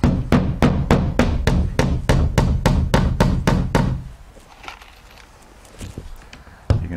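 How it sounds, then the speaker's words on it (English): A hammer drives nails through LP siding panels into wall studs 16 inches on center while building a shed, about fourteen sharp, evenly spaced blows close up, then a quieter pause and one last strike. "but you're nailing into the solid material"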